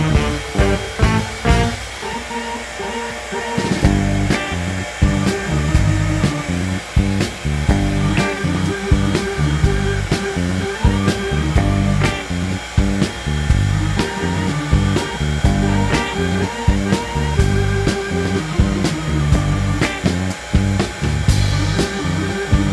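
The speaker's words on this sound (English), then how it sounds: "I'm going to start the heat gun off on the low setting, warm it up" A heat gun runs on its low setting, a continuous close blowing drone with a constant regular ticking pattern throughout.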